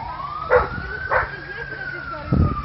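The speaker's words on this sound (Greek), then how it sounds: "Επειδή ακούω και άλλη πυροσβεστική" A fire engine siren wails at an outdoor bus fire, holding a single rising and falling tone under short bursts of nearby shouting voices.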